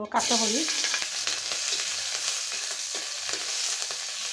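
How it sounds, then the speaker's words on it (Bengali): Green chilies frying in a little oil in a wok, with a steady close sizzle, an early sputter and a few faint utensil taps; no voices. "কাঁচামরিচগুলো আমার ভাজা হয়ে গেছে"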